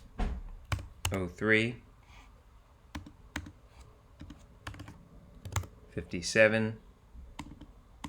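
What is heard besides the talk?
typing on a computer keyboard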